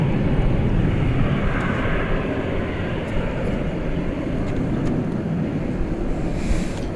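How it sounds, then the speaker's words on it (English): A heavy airliner on Flight 7 to Brisbane takes off at night from Dallas Fort Worth International Airport, its jet engines a loud, steady, broadband roar that holds throughout at a moderate distance. "Flight 7 is off to Brisbane, headed down under."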